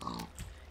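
A single short grunt from a pig in the video game Minecraft, heard on a pig farm, brief and fairly faint.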